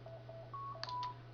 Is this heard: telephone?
yes